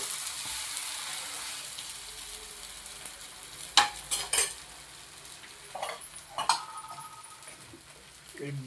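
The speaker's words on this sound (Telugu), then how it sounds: "ఒక పక్క ఎగ్ దోశ పోస్తుంది" Egg dosa batter sizzles and fries on a hot pan in a home kitchen, with a steady hiss broken by a few sharp clinks of a utensil and a quiet background voice.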